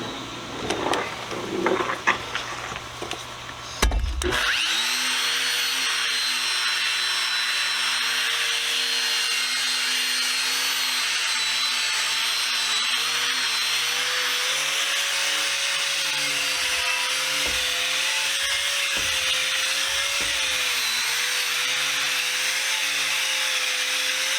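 After a brief clatter of handling, a wire wheel spins up and grinds steadily against a flea-market frying pan, scrubbing off burnt-on crust with a loud, continuous whine outdoors, its pitch wavering slightly as pressure changes.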